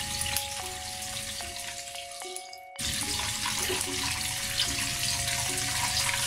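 Chicken fingers frying in hot oil, a steady close sizzle and crackle running throughout with a brief dip partway through, no voices.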